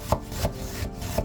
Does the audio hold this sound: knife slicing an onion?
yes